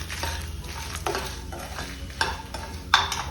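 Chana dal and curry leaves dry-roast in a pan, rattling and scraping under repeated stirring strokes with a faint sizzle beneath, ending on a couple of sharper clinks of spoon on metal, all close.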